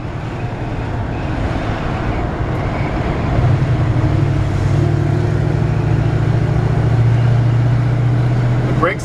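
A 1967 Chevrolet C-10 pickup truck rolls slowly along a quiet residential street, its steady low engine drone and road rumble swelling slightly partway through, with no talk.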